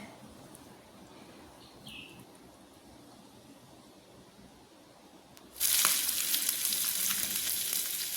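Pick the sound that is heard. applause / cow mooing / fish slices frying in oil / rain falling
fish slices frying in oil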